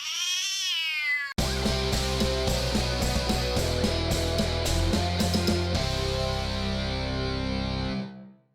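A cat gives a drawn-out wavering meow up close at the start, then heavily processed music with robotic effects takes over and fades out.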